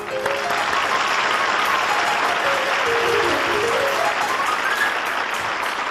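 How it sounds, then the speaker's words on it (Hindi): A studio audience of children claps on a TV children's program's Independence Day special, a full steady wash of applause lasting throughout, with faint tonal background music running underneath. "तो इनके लिए भी तालियां होनी चाहिए।"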